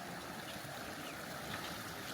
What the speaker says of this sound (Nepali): नदी खोला बगिरहेको छ